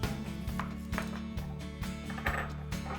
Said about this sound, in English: Phil is chopping up 2 cloves of garlic and 2 shallots